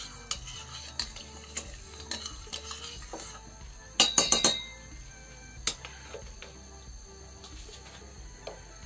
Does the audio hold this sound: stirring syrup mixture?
yes